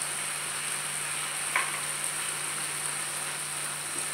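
Cashews fry in a pan with a soft, steady sizzle and a faint low hum underneath, with one small scrape partway through and no speech.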